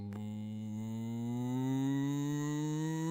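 A voice imitates a Sydney Red Rattler electric train starting off, a low rising drone that swells steadily and holds loud and close, much like a long moo.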